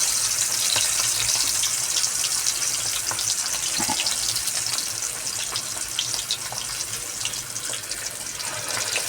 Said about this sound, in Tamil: ஆஹா, பொரியுது. முதலில் நாம் லெக் பீஸை இது உள்ளே விடுவோம்.